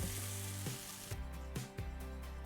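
Tomatoes sizzle and bubble in a hot pan, a soft steady frying hiss with a few stirring clatters.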